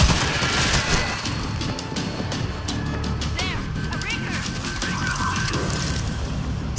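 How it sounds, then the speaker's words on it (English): Machine gun fire in the video game World War Z, a dense, continuous rattle of rapid shots mixed with crashes and game effects, loud and unbroken throughout. "Machine gun is ready!"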